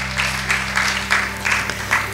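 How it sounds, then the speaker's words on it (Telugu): Audience clapping at a Telugu Christian church meeting, several short bursts of applause in an even rhythm over a steady low hum, fairly close and moderately loud. "చప్పట్లు కొట్టండి"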